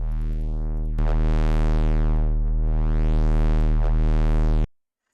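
A Serum 2 drum-and-bass notch bass with added distortion: a loud, sustained, buzzy synth tone whose notch sweeps up and down in a steady rhythm, retriggered once, then cut off abruptly into silence.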